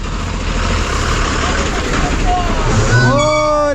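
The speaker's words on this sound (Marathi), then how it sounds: "चला गाडी आली" An MSRTC bus from Sangameshwar bound for Mumbai pulls in at a village stop, its engine a loud, steady rumble that ends in a rising whine. People talk over it throughout.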